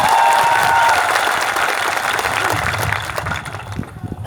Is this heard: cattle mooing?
no